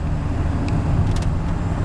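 A truck engine at full throttle, a steady loud low roar and rumble of the motor pulling hard, heard close with no voices.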